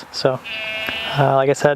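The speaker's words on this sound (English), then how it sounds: "I got an audience over there of the goats." Goats bleating nearby, several wavering, drawn-out calls overlapping someone speaking outdoors.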